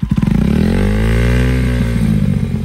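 A Bajaj Pulsar NS 125 motorcycle with an aftermarket exhaust fires up into a loud, close, rapid thumping idle with a rattling, buzzy edge that holds steady throughout.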